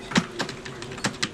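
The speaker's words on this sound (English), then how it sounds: "Everybody knows what he's always typing" Sparse keystrokes on an office computer keyboard, a handful of soft, irregular clicks at close range with a faint background hum and no voices.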